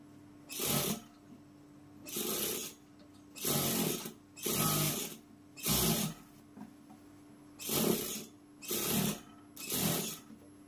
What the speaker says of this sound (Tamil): நேராக வந்து தையல் போட்டுக்கலாம்